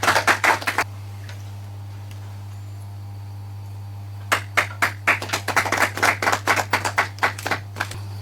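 An audience claps on a quiz show stage in two bursts, a short round at the start, then a pause with only a low steady hum, then a longer run of rhythmic, fairly close claps.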